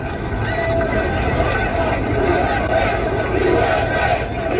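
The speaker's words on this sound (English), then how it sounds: "What an incredible crowd." A large outdoor crowd at a political rally roars and cheers in a dense, continuous wash of voices, loud and steady throughout without clear breaks.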